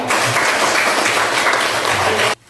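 Students in a classroom clap together in a loud, continuous patter that runs steadily and then stops abruptly near the end, leaving near silence.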